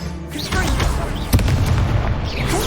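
Confringo fire spell bursting in Hogwarts Legacy, a loud close boom followed by crackling rumble and another sharp impact amid combat effects, with a voice shouting briefly.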